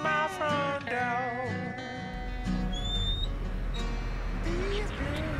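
Birds calling and chirping near a front door, with short whistled sweeps over a busy, steady background that sounds like other voices or noise.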